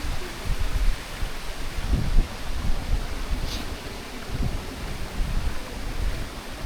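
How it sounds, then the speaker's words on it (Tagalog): A stream flows steadily beside a campsite in Real, Quezon, producing a continuous broadband rush with soft gurgling underneath, moderately loud and unbroken, with no talk. "Ito tayo na, ang batis."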